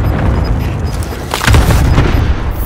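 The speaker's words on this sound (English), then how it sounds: "Allies cluster strike inbound." Heavy booming explosions from a cluster strike in Call of Duty Warzone Resurgence, a loud rolling barrage of several blasts that swell and cluster together over a constant rumbling background.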